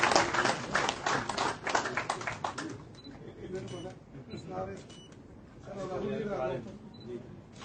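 Loud, dense applause from a crowd greeting new members joining the BJP party at a Jammu and Kashmir gathering, filling the first few seconds before fading into scattered claps and talk.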